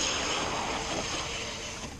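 Traxxas TRX-4 RC crawler truck with a brushless Velineon motor pushing quickly through a river, giving a loud, steady broadband rush of churning, splashing water throughout, with no talk.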